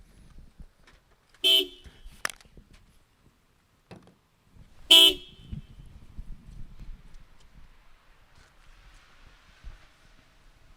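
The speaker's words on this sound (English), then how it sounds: "those horns are loud on the cars" Two loud, sharp car horn blasts a few seconds apart, each brief and close, from inside a Honda CR-V, over a low rumble of traffic and street noise.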